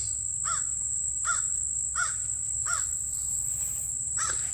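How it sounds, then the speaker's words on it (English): A crow caws from up in a tree in a backyard, five harsh calls at a steady, evenly spaced rhythm, moderately distant over a constant high insect drone and low rumble. "We got a crow up there hollering a tree somewhere."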